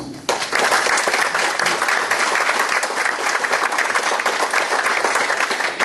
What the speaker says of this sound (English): I would certainly appreciate it if you'd all give Pete a nice round of applause.